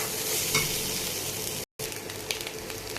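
Rice tossed into a pan with fried potatoes, stirred and sizzling: a steady hiss of frying with scraping stirs, close and fairly loud, briefly cut to silence midway before the sizzle resumes.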